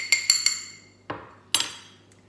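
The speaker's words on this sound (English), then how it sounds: "Give that a stir with a spoon." A spoon clinks against a glass while stirring a vodka and orange juice Harvey Wallbanger cocktail: three quick bright taps, a pause, then two more ringing knocks with short decays.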